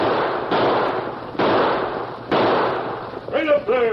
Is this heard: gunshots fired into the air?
yes